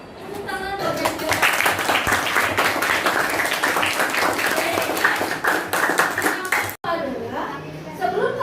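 A school class applauding during a lesson, children clapping loudly in a dense, sustained burst with kids' voices mixed in, ending in a brief cut before a teacher's voice resumes.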